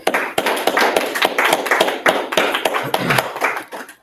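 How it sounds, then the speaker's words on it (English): A group of people clapping together in a steady, dense burst of handclaps that carries on without pause, near and loud, with no talking over it. "Let's clap it up."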